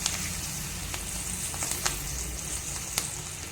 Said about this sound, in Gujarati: તો આપણે લીલા મરચાંથી એનો વઘાર કરશું।